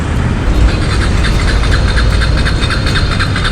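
A Bajaj Pulsar NS 200 motorcycle engine runs low on petrol, giving a loud, close, continuous rough drone with a slightly uneven pulse.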